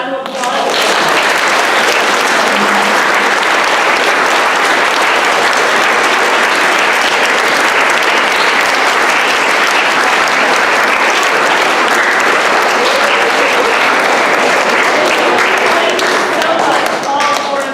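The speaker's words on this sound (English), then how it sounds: "a round of applause." A middle school audience gives a loud, sustained round of applause after a panel, dense rapid clapping from many hands filling the room at an even level throughout.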